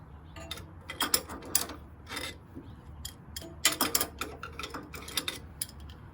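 An adjustable wrench works on the engine of a 1968 Baja Bug during a valve adjustment, producing clustered bursts of metallic rubbing and ratcheting clicks with quiet gaps between, fairly close.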